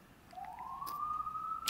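An emergency vehicle siren outside during unrest, a single faint rising wail heard from a distance that climbs and holds steady, with a brief noise burst at the end.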